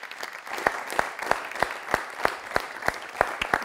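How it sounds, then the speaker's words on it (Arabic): Studio audience applause on a Tunisian live TV show, steady clapping with sharp, evenly spaced loud claps standing out over the crowd's patter. "تصفيقة كبيرة"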